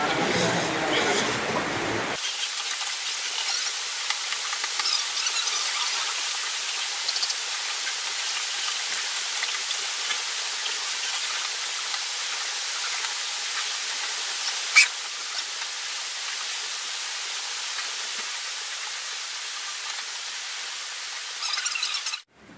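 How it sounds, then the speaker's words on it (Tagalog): Heavy rain pours outside during a typhoon, a dense, even hiss that runs steadily for about twenty seconds after a short burst of other noise at the start. "madilim po yung area dahil nga po malakas yung ulan sa labas"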